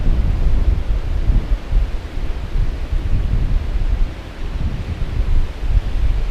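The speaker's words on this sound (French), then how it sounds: "il n'y a rien qui empêche le vent de passer ici" Strong wind gusts roar steadily across an open walkway over water treatment tanks in Arakawa Shizen Park in Tokyo, a continuous loud, low buffeting rush against the microphone with no voices.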